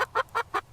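A hen in an animated children's phonics song clucks four times in a short, evenly spaced series of bright, close, clipped clucks with brief gaps between them.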